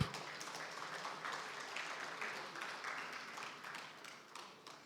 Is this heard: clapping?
yes